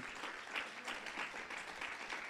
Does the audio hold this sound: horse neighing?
no